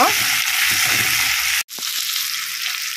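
A pan of onions and tomato sizzles loudly while being stirred for Mangalore-style crab sukka, a steady close-up hiss with scraping that cuts out abruptly for an instant and then resumes.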